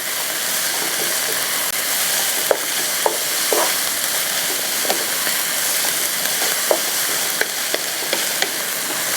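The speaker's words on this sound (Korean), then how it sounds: "센 불에 빠르게 볶아내는 게 중식의 포인트인데요" Carrots and squash stir-fry over high heat in a deep frying pan, giving a steady loud sizzle with scattered sharp clicks from the spatula.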